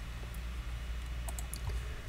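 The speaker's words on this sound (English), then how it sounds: "Excuse me for having a very clunky keyboard today." A clunky computer keyboard gives a few scattered, faint keystroke clicks over a steady low room hum, with no talking.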